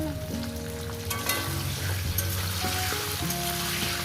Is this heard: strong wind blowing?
no